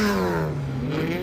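A red BMW E46 race car at an endurance race at Mid-Ohio roars loud and close, its engine tone sliding steadily downward as it passes.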